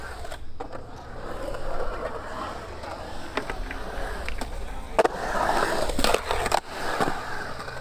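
Skateboard wheels roll and clack on pavement during a big spin 5-0 fakie trick, with scattered sharp board impacts over a rough rolling rumble, outdoors.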